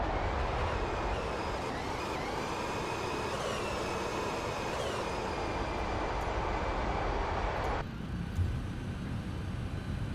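Steady broadband roar of TFDi MD-11 jet engines on the takeoff roll in a flight simulator game, with rising whining tones, then an abrupt drop in the upper hiss near the end as the noise continues.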